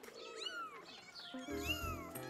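A cartoon cat meows several times in a rising and falling wail, close and clear, with a harsher caterwaul toward the end over a soft background, with no speech.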